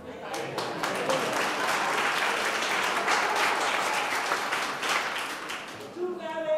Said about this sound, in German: War das jetzt der Applaus für den Herrn Kahn oder für den Herrn Bachheimer?